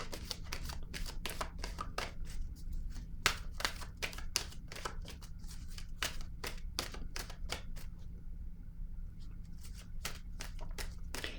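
Oracle cards being shuffled by hand, heard as a rapid, irregular run of crisp flicks and slaps close up, with brief pauses between bursts and no speech.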